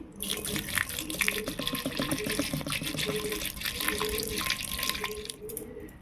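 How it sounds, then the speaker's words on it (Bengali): Water pours from a tap onto lentils in a kadai for washing, a close, continuous splashing gush with small drips and bubbling throughout. "তো আমি এবারে ডালটা দিয়ে দিচ্ছি। জলটা দিচ্ছি।"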